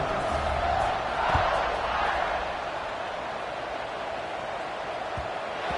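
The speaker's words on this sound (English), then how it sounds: "You think this crowd's going to get loud when their defense comes on the field?" A college football stadium crowd roars at kickoff, a broad, distant wash of cheering that swells in the first seconds and then settles into a steady murmur.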